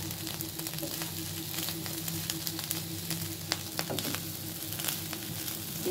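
Potato bhaji with fish roe frying in a pan, a quiet continuous sizzle with a low steady hum and occasional soft stirring clicks.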